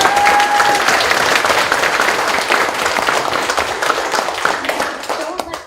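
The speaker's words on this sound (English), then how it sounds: "Y'all will please give her a big round of applause." A crowd applauds steadily for several seconds, dense clapping that slowly tapers off near the end.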